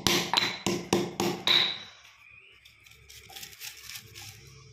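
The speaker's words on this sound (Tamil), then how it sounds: "பாருங்க, நல்லா இடிபட்டுருச்சு, இடித்தாச்சு." Seeded fruit is pounded and crushed for a hair remedy, five sharp, evenly spaced thuds up close, followed by quieter crinkling and shuffling as the crushed pieces are handled.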